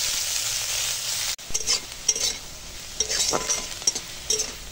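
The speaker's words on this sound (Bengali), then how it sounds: "এখন পেঁয়াজটা ভেজে নেব।" Onions frying in a pan with nigella seeds and dried red chilies, a sizzle joined by intermittent scraping and clinking stirs from a spatula, close and unaccompanied by speech.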